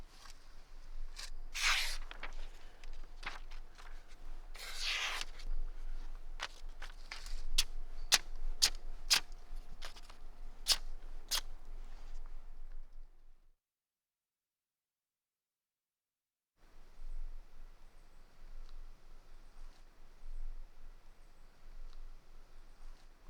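A freshly sharpened bushcraft knife slices through a sheet of paper, giving a run of crisp, close rasping cuts in a quick rhythm, then a short stretch of silence before a softer, fainter rustle resumes.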